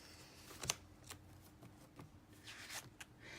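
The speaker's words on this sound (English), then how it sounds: "Let me get a sticker." A sheet of stickers is handled while making a Christmas card, producing quiet, close crinkling, rustling and light papery ticks in an irregular rhythm, faint and without talk.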